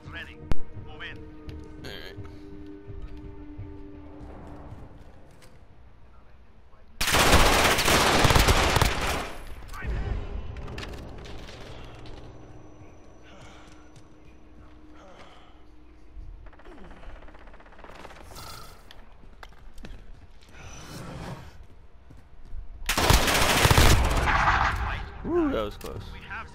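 Bursts of video game gunfire crackle in two heavy volleys separated by a quieter lull, with a sharp single shot at the start and voices talking between the barrages.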